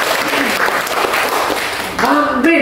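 Church congregation clapping together during a Thursday worship service, a dense steady wash of applause filling the room, with voices rising over it toward the end.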